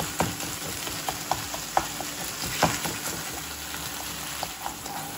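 Beetroot halwa with khoya is stirred in a kadai, a soft sizzling hiss under steady scraping, with a few sharp clinks of the spoon against the pan.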